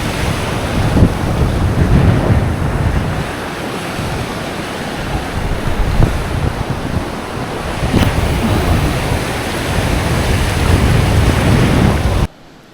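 Ocean surf rolls and breaks steadily near a fishing spot, with gusts of wind buffeting the microphone throughout and a brief surge around the midpoint.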